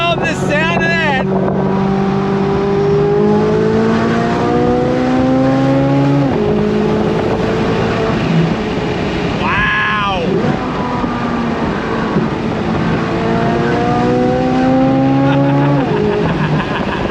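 A Chevrolet C8 Corvette Z06 at full throttle from a launch, its engine screaming up through the revs in repeated loud climbing pulls with brief dips at gear changes, heard from inside the car with occasional excited voices.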